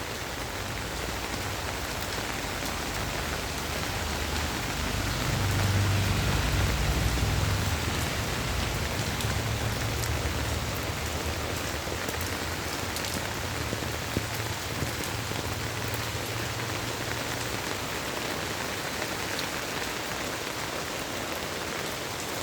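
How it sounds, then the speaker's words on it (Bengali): Heavy rain falls steadily outdoors on a rural homestead with mango trees, a dense, continuous hiss of drops on surfaces that swells slightly in the middle and carries on without pause and without voices. "প্রচুর বৃষ্টি হচ্ছে, চারিদিক জল আর জল।"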